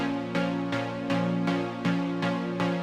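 Saw-wave synth chords from a Vital preset with 16 unison voices and 7% detune, for chill house: bright, wide sustained chords restruck about seven times in a steady rhythm, loud and alone.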